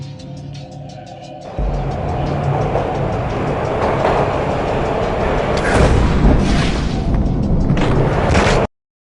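A train ride in the Max Payne video game: a loud, continuous rumble of rolling wagons with rattling clatter and heavier surges of noise, ending in a sudden cut.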